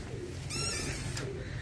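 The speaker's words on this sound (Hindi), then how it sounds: "ए कबूतर है" Pigeons in a rooftop breeding loft coo in a soft, low, steady murmur, with a brief brighter burst of wing flutter or chirping midway, fairly close and without speech.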